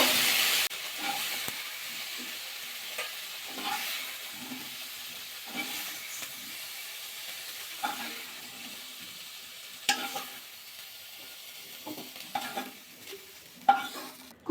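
Cauliflower pieces frying in a wok: a faint, low sizzle under intermittent scraping and stirring strokes, with a few sharper clinks of the spatula near the end.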